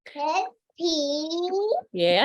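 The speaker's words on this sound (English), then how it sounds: "You might hear a toddler in the background" Toddler babbling in three separate bursts of high, sing-song vocalizing with short silences between them, close and clear, heard during a public comment at a regional government board meeting.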